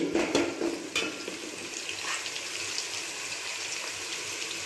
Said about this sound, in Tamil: இப்போது வெங்காயம் நல்லா வதங்கிடுச்சு